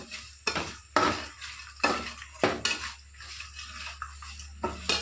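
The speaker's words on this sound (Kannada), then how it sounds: "ಸಾಂಬಾರ ಪದಾರ್ಥ ಹುರಿಯುವಾಗ ಸ್ವಲ್ಪ ಬೆಲ್ಲ ಹಾಕಿ ಹೋಗಬೇಕು" Spices and jaggery roasting in a pan for a jackfruit menaskai dish, heard as repeated sharp clinks and scrapes of a metal spoon stirring against the pan over a faint background sizzle, with no talk.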